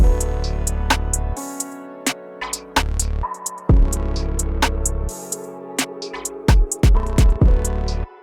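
A punchy beat made in FL Studio with booming kicks, sharp snares and rapid hi-hat rolls over a melodic backing, with sudden drops and restarts.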